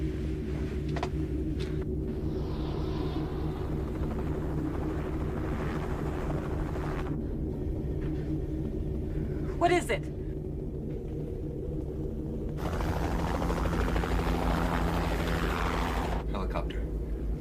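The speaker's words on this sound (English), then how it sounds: "Helicopter." A deep, steady rotor rumble throbs throughout at a distance, with a brief spoken question and a few clanks over it.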